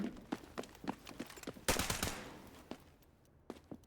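Rapid bursts of video game gunfire in Delta Force crack in an uneven rhythm, with one louder, longer volley near the middle, then scattered single shots fading out.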